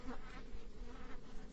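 A dense, steady buzz of many honey bees, close and continuous, with no voices.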